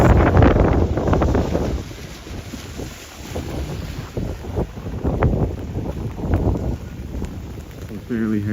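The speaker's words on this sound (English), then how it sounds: "Some fairly heavy wind coming off the lake." Heavy, gusty wind coming off Lake Superior on a rainy night in Duluth, Minnesota, buffeting the microphone in loud, uneven roaring surges that continue throughout.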